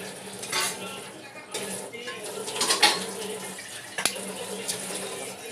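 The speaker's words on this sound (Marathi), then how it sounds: "आधी आपल्याला प्लेट आणि मँगोला धुवून घ्यायचं" Tap water running while a plate and a mango are washed at a kitchen sink, a close splashing rush with clinks of the plate and brief knocks.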